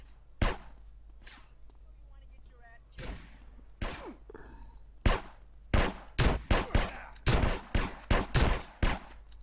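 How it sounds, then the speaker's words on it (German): Gunfire in the video game GTA San Andreas Multiplayer: sharp, loud shots, a few scattered at first, then a rapid irregular volley of close cracks with brief gaps between them. "Die knallen uns gegenseitig ab."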